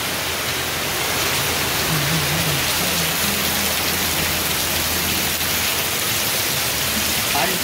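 Steady, dense rain pours over a Konkan village in the season's first downpour, a continuous close hiss that never lets up, with faint low voices beneath it.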